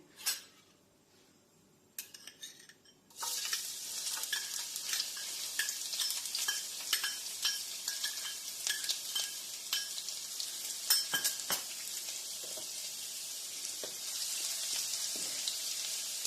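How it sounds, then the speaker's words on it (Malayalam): Sliced shallots drop into hot coconut oil after a few quiet knocks. A loud, close sizzle then takes over and runs steadily, broken by repeated scraping and clinking of a spoon as they are stirred. "അപ്പൊ ഇതിൽ ഞാൻ കുറച്ച് ചെറിയുള്ളി സ്ലൈസ് ചെയ്തത് ഇടാൻ പോവാണ്"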